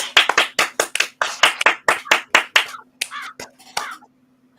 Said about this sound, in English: A round of applause for our host with the most,